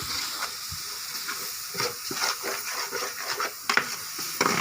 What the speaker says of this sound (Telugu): ఇప్పుడు మనకు ఎంత కావాలో అంత కారం వేసుకొని మనము ఈ విధంగా కలుపుకోవాలి